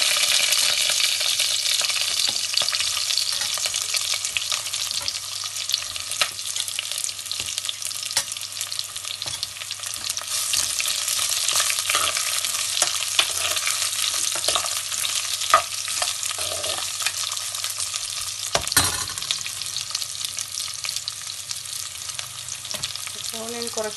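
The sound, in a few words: onion frying with mustard seeds, curry leaves and dried chillies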